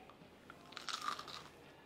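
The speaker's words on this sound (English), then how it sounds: "It's super, super crunchy. I already took a bite." A single crunchy bite into a fried banana peel vegan fish fillet, a brief crisp crackle close to the mic, quiet otherwise and without talk.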